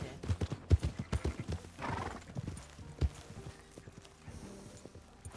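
A horse in the Red Dead RP video game clip-clops along in a quick uneven rhythm, then gives a short neigh, with a brief spoken word over it.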